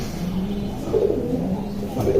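Pigeons in a loft coo in low, throaty murmurs that swell and repeat, close by, over a faint background hum.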